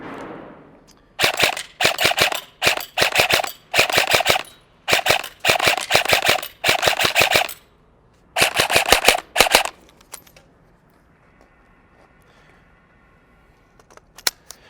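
A KWA QRF MOD airsoft electric gun fires close up in a string of quick full-auto bursts, each a rapid mechanical rattle of shots split by short pauses, then falls quiet apart from a few faint clicks.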